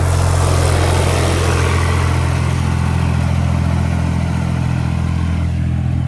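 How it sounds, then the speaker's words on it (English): A tractor drives around a backyard, its engine a loud, steady mid-pitched rumble with a low hum, fairly close and continuous, fading slightly at the end, with no voices. "See, dudes driving tractors around here"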